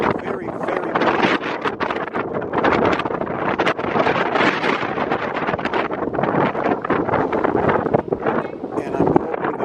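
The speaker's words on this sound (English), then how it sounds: "It is windy, very, very windy." Strong wind buffets the microphone at an outdoor semi-pro football game, continuous rumbling gusts, loud and unbroken throughout.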